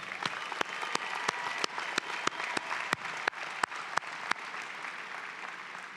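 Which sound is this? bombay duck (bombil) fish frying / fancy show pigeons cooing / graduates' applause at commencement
graduates' applause at commencement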